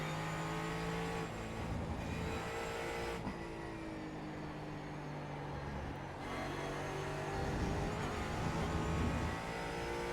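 Ford Mustang GT4 race car in iRacing at the Hungaroring, its engine droning and revving steadily, with upshifts and shifts in pitch as it accelerates and brakes through the corners, continuous and close.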